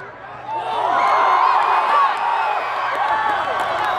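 A college football crowd at a Grossmont versus El Camino game roars and cheers after an interception, a dense, sustained wall of voices that swells and holds loud throughout, with shouting rising above the mass.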